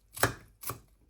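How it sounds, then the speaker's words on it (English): Two sharp chops of a knife through food onto a chopping board, evenly spaced and close, with a third starting at the end and nothing else around them. "if you do it with the grain of the chopping board, the actual knife slices deeper into it"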